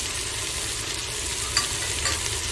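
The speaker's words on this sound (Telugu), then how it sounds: "ఆల్రెడీ ఇప్పుడు ఇవన్నీ బాగా ఫ్రై అయిపోయాయి కదా" Vegetables frying in a pan with cumin and coriander powder added, a steady close sizzle with scraping stir strokes throughout, no talking.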